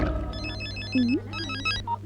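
A mobile phone ringtone plays a repeating electronic melody of bright beeping notes, close and clear, with a low steady hum underneath.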